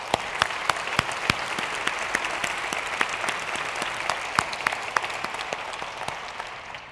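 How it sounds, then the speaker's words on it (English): A conference audience applauds in a large hall, a dense steady wash of clapping with sharp individual claps standing out, sustained for several seconds at even loudness. "invite you to applaud those who have led that work, like Maureen and Janet and others"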